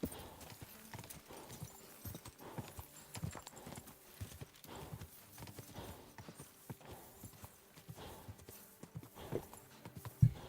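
Horse hooves clip-clopping in a steady walking rhythm as a rider travels through medieval Bohemia in a video game, moderately close with soft background ambience.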